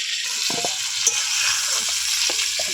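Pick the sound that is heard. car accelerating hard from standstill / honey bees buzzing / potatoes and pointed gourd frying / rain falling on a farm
potatoes and pointed gourd frying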